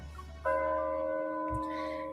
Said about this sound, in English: The ancient bell tolls for the 12th time.